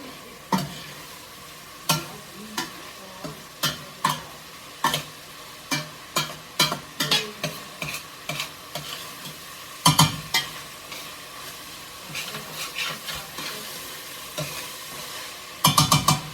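80-20 ground hamburger meat browns in a pan for beef goulash, a steady close sizzle broken by repeated scraping stirs of a utensil against the pan, with a few sharper clatters near the end.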